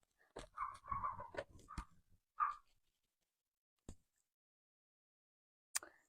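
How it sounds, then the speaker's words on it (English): A small dog gives a quick run of faint, yappy, whiny barks, followed by a few isolated sharp yips separated by long quiet gaps. "Her bark is so cute."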